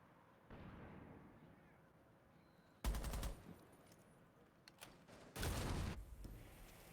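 Gunfire and a grenade in a Rainbow Six Siege match: quiet ambience broken by two loud bursts of shooting and a blast, with a brief sharp crack between them.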